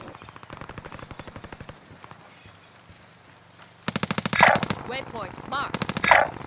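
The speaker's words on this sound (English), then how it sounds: "I'm getting shot from somewhere." Call of Duty: Modern Warfare gunfire rattles in fast automatic bursts, first moderately loud, then louder and closer in two heavy volleys, with faint voices underneath.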